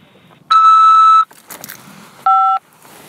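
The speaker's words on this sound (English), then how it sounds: "After the beep, press 5 to accept this call." Automated prison phone system beeps on a call from a corrections facility: two steady electronic tones, a long one of under a second followed by a shorter, lower double-pitched one, loud and clear with no talk over them.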